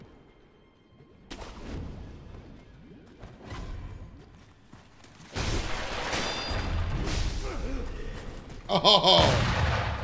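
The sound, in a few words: enemy guns firing in video game Sekiro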